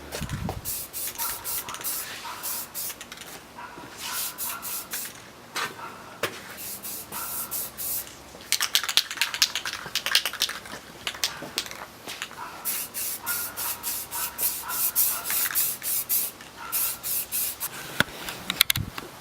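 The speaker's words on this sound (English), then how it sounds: "I got the primer going" Spray primer hissing from an aerosol can onto the front lip of a Nissan 350Z, repeated short bursts and longer sprays with brief pauses, close and fairly loud.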